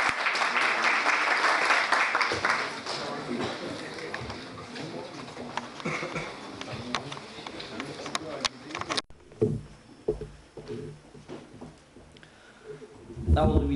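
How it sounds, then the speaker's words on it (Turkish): Applause rises at a school award ceremony in Sultangazi, with crowd clapping loud and dense for about nine seconds, then thinning into scattered claps and shuffling room sounds, with a voice briefly audible near the end. "Mustafa Aytekin hocamızı ben alkışlarınıza davet ediyorum"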